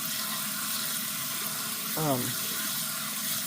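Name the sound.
water running in sink, rinsing beans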